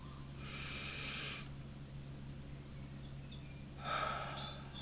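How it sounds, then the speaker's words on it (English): Two long breaths, a deep inhale followed after a pause by another airy breath, close and soft over a steady low hum. "We're gonna take another deep breath."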